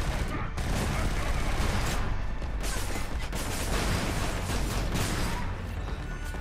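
Shotgun blasts from Killzone Shadow Fall go off in dense, continuous combat noise over about six seconds. The loud booms come close together, with faint game sounds or voices mixed in.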